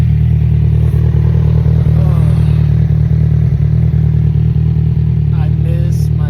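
A motorcycle engine idles steadily outdoors, a constant loud low drone with faint clatter and no clear revving across the whole stretch.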